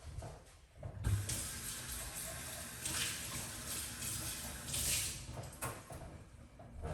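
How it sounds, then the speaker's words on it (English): Water running from a tap to rinse out a cup, a soft continuous splashing stream that swells and dips with brief knocks of the cup, fairly quiet and without talk. "Rinse out my cup"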